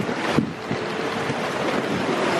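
Sailboat under sail on the open sea between the Bahamas and Turks and Caicos, pushing through three- to four-foot waves; steady broadband wash of water and wind roars close and constant, with a brief slap of spray.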